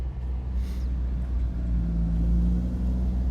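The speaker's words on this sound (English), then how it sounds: "Here comes a loud truck." A loud truck passes on the road, its deep low rumble swelling and holding steady over a few seconds, heard from a roadside with no talk.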